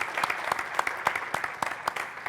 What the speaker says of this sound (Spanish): Un aplauso al doctor Delbas.